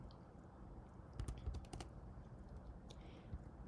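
A computer keyboard is tapped to enter a math equation, a brief cluster of quiet clicks in the middle and a couple more near the end over a faint background hum.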